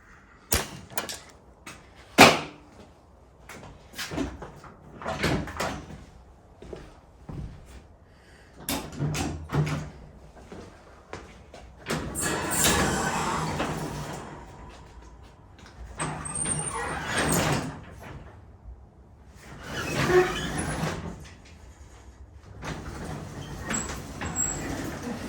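Residential garage door rolling along its metal tracks after a spring replacement, with rumbling, rattling bursts and clunks that come and go over about twenty-five seconds at close range.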